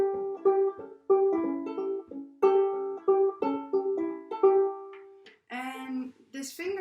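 A banjolele plays a 12-bar blues fingerpicking pattern at a quicker tempo, bright plucked notes in a bouncy repeating rhythm, close and clear, ending with a few brief extra plucks.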